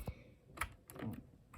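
Keys clatter on a Dierya computer keyboard in a few separate, close, crisp taps with short pauses between them.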